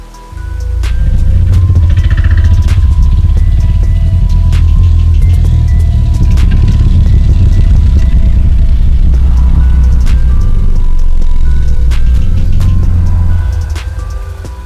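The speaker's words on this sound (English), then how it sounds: "That was a really long growl sound effect there." A long dinosaur growl sound effect from a Roblox dinosaur game, a loud deep rumbling drone resembling a motorcycle engine that runs steadily for over ten seconds before tapering off, heard alone without talk.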